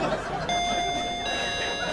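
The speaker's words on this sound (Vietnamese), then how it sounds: "đó chuông cửa nữa kìa" A doorbell chimes indoors during a Vietnamese stage comedy sketch, steady ringing tones heard over background noise and audience murmur.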